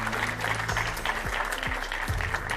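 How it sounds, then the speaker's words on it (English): Applause from the studio audience of a televised European Parliament debate show, a moderate steady patter of clapping running under tonal music throughout. "a round of applause for our two MEPs on The Ring, Stine Bosse and Tilly Metz."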